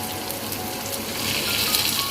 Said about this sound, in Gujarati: હવે આપણે જે ગ્રેવી તૈયાર કરી છે એ આપણે ગ્રેવી નાખી દઈશું અંદર